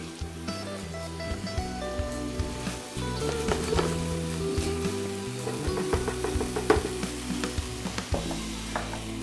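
Pieces of beef browning in a hot pan for beef stroganoff give a continuous crackling sizzle, close and steady, with occasional stirring scrapes and clinks over the frying.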